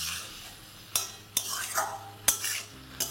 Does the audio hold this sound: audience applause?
no